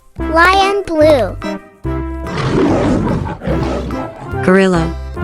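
A cartoon lion gives several drawn-out, voiced roars with rising and falling pitch, broken by short gaps and a rougher, noisier middle stretch, loud and close, with a childlike cartoon voice quality.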